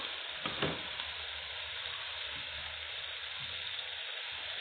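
Large tomatoes drop into a fish tagine frying in hot oil, setting off a dense, steady sizzle with a brief burst of spatter near the start, close and continuous, no voices.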